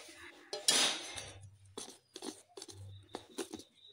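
Cake batter thinned with milk is stirred in a bowl, giving soft scraping and clinking of a spoon against the bowl in a few irregular bursts, fairly quiet and close, with no talk.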